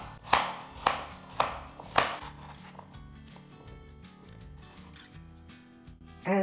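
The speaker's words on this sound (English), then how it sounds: "Let's continue by cutting the potatoes into cubes as well." A knife cuts potatoes into cubes on a cutting board for soup: four sharp, evenly spaced chops close up, then quieter scraping and handling.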